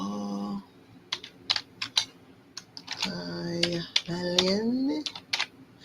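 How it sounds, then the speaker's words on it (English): Keys on a computer keyboard clatter in quick irregular bursts of clicks, close and fairly quiet, interleaved with a person talking. "Let me type it in the chat."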